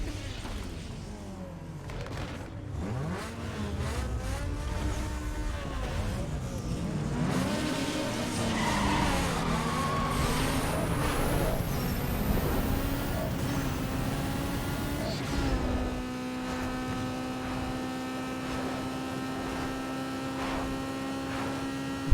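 Honda Civic with a 1.6L inline-four in a Need for Speed Underground 2 drag race, engine revving and climbing through gears with steady tonal whine, then settling into a sustained high drone, loud and continuous without talk.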